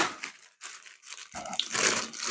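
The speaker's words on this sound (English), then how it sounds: "We've got the original plastic bags it came in." Original plastic packaging bags from a charity shop item being handled, giving close, irregular crinkling and rustling bursts with brief pauses between them.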